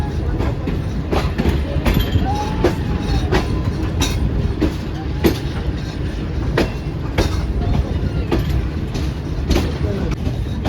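Shalimar Express passenger train running on rails between Lahore and Karachi, a loud steady rumble with repeated clickety-clack wheel beats throughout, heard from on board with faint voices in the background.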